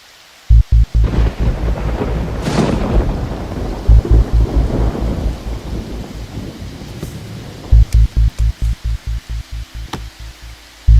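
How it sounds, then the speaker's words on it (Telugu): Thunderstorm with heavy rain: a steady hiss of downpour, a loud nearby thunder crack with a rolling rumble, and sharp repeated thumps of drops hitting a surface, with no voices. "వర్షం చూడు ఎలా పడుతుందో"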